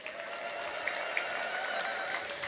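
A church congregation ululates and applauds in praise after a healing testimony, a dense patter of clapping mixed with a high, sustained trilling cry, loud and continuous.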